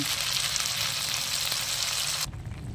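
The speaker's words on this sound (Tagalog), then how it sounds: "Kilalagay na natin ang kamatis. Gisahin muna natin yan." Tomatoes sautéing in a pan for sarsyadong tilapia, a steady loud sizzle that fills the clip and then drops off sharply near the end, with no talk.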